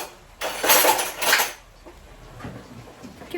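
Food stirred in a pot with a spoon, two bursts of metallic scraping and clinking, close, followed by quieter shuffling.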